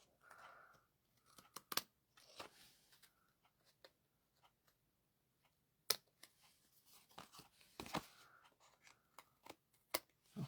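Scissors snip through a paper craft piece for a stamped snowflake card project, giving a scattered series of short, close crisp cuts and rustles with quiet pauses between them.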